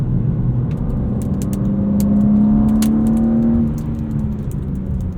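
A 2026 BMW M2 CS engine revving under throttle, a close, loud rising drone that climbs smoothly in pitch, holds, then drops back, with faint clicks from the cabin; no talk.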